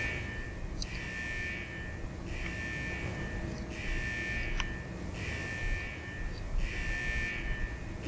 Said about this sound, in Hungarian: És így kinyomom a riasztót.